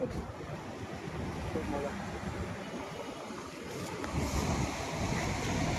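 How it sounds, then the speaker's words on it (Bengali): Rain falls steadily outdoors in Chattogram, a dense continuous hiss that holds evenly throughout and swells slightly toward the end. "বৃষ্টি পড়তেছে"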